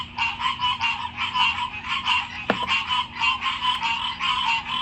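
Frogs croak from a backyard pond in Eastern North Carolina in a dense, pulsing chorus of repeated calls, with one sharp click in the middle and no voices.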